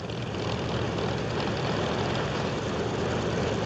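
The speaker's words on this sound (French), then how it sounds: "On réchauffe les moteurs." Japanese warplane engines warming up on aircraft carriers before the attack on Pearl Harbor in December 1941, a steady, loud propeller engine drone with a broad roaring rumble that holds even throughout, with no voices.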